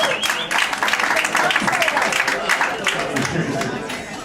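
A jazz audience at a tribute concert applauds after a piano solo, dense sustained clapping from a large crowd, loud and continuous, with a voice talking underneath.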